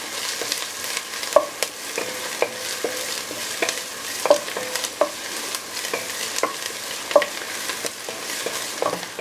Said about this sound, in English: Put our garlic in here. Let that cook a little bit.